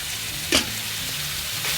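Sichuan dry-fried beef with vegetables and seasoning liquid stir-fried over high heat: a steady, close, dense sizzle with one brief sharper burst of spatter midway, no voices.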